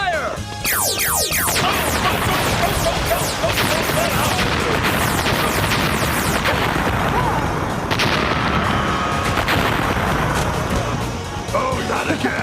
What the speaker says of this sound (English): Synergizer blaster mode. Turbo Auto Blaster, fire!